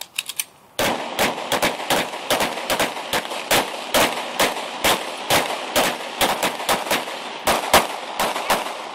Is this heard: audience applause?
no